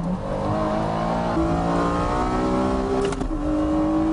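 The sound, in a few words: Honda NSX 3.2 liter engine accelerating at race start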